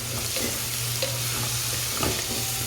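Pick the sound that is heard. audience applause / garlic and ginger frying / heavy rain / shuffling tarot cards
garlic and ginger frying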